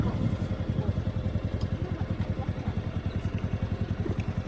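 A small scooter engine idles up close with a rapid, even putter. The low, throbbing pulse holds steady throughout with no revving.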